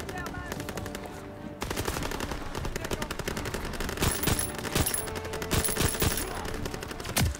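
World War II battlefield gunfire from the Call of Duty WW2 campaign: rapid machine-gun bursts and rifle shots crackle continuously and grow denser and louder toward the end.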